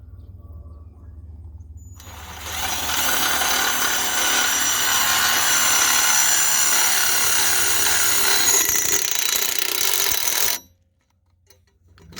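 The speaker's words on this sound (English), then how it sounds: "so I'm going to have to drill another hole" Power drill bores a hole for a new trailer plug bracket, starting after a quiet moment, running in one continuous close whine for about eight seconds, then cutting off abruptly; no talking.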